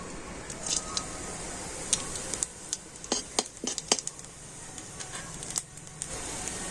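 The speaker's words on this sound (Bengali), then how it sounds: "সেই তেলের মধ্যে আমি দিয়ে দিচ্ছি গোটা গরম মশলা আর গোটা জিরে" Whole garam masala and cumin seeds fry in hot oil left from frying capsicum, a steady sizzle broken by sharp spoon-on-pan clinks and stirring scrapes, close and fairly loud with no talking.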